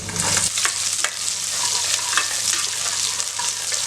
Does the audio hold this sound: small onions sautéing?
yes